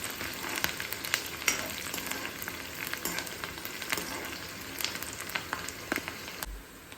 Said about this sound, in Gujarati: એની સાથે આપણે સૂકો લીમડાના પાન બધું જ ઉમેરીને આપણે ડુંગળીને સાંતળી લઈશું